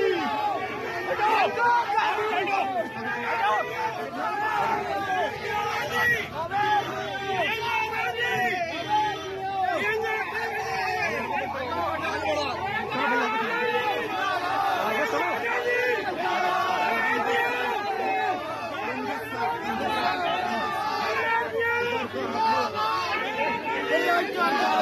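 A large, dense crowd at Priyanka Gandhi's election roadshow in Rampur, a continuous loud hubbub of many overlapping voices, shouts and cheers, steady throughout.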